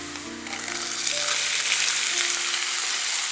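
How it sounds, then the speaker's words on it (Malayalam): Cooked clam meat frying in oil with onions and dried red chillies, a loud, dense, crackling sizzle with steady popping throughout. "കക്കയിറച്ചി ഫ്രൈ ചെയ്യുമ്പോഴത്തേക്ക് ഇതുപോലെ ഇങ്ങനെ പൊട്ടിത്തെറിക്കണ പോലെ സൗണ്ട് കേൾക്കും"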